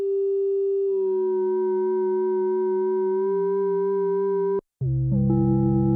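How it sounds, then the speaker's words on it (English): Steady electronic sine tones from a Sequential Take 5 synthesizer hold a clean harmonic chord, shifting timbre slightly, then cut out briefly before a richer, buzzier FM tone returns. "Let's put it to sine waves so you can really hear what the FM's doing."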